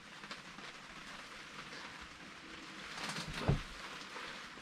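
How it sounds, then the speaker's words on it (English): Light spitting rain patters softly and steadily outside a hunting blind on a cool November morning, a faint, even hiss with one brief louder knock partway through and no voices. "It's been spitting rain."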